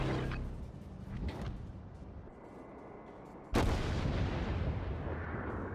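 Main guns of the battleship USS New York in World of Warships fire a booming salvo, one sudden heavy blast followed by a long rumbling decay over mechanical turret noise.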